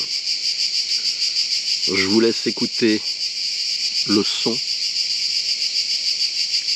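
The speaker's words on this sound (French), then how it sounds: "les cigales, c'est superbe, c'est apaisant, ça nous rappelle la nature" Cicadas shrill outdoors in a dense, continuous pulsing buzz that holds steady throughout, while someone speaks briefly over it in two short bursts.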